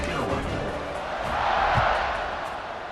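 The stadium crowd in EA Sports College Football 26 buzzes after a touchdown, a broad steady roar that swells midway and then eases back, with no clear voices standing out.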